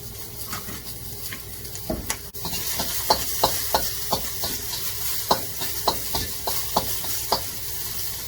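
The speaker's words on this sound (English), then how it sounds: "Lightly fry them up." Dehydrated noodles for a beef stir fry are lightly fried and mixed in a pan, giving a steady sizzle broken by a run of sharp scraping and stirring knocks. No one speaks.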